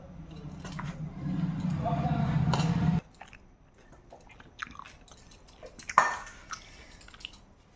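Someone eating home-made chicken biryani, with soft chewing and a few crunchy bites near the microphone, heard after an opening stretch of talk.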